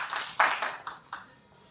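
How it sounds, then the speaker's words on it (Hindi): Scattered clapping from a small group in a room for volunteers who have just finished a demonstration, a handful of distinct claps at uneven intervals that fade out quickly. "सर इनके लिए तालियां जिन्होंने वॉलंटियर किया"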